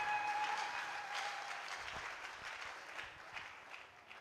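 A church congregation applauding, a broad wash of clapping that holds steady and then slowly thins, heard at a distance and fairly quiet with a faint tone ringing at the start.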